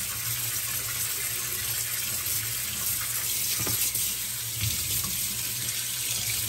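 Water running from a tap as an evaporative cooler filter for an Arctic Air Pure Chill is soaked, a steady close splashing rush throughout with no talking.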